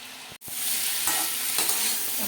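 Ridge gourd fries in hilsa fish oil with a little sugar, giving a loud, steady hiss and sizzle broken by a few stirring scrapes and taps, after a brief silence at the start, with no talking.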